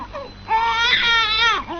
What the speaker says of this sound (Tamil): ஏமா ஏன் குழந்தை இப்படி அழுதுகிட்டு இருக்கு?